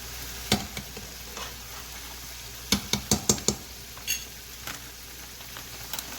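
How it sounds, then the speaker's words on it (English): Fried rice with curry and vegetables is stirred in a pan over a steady low sizzle, with a burst of quick scraping knocks from the utensil partway through and scattered softer taps, no talking. "And then we stir"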